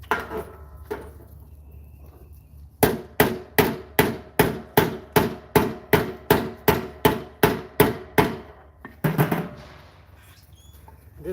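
Hammer blows drive a rivet into a strap, about fourteen sharp, evenly spaced strikes in a steady rhythm, close and loud, with a pause before the run and a brief scuffle after.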